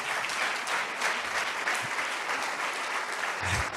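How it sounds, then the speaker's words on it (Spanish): Audience at a church-style gathering applauds continuously and warmly, a dense steady clapping with faint voices mixed underneath and a few louder claps near the end. "Denle un fuerte aplauso a estos hermanos"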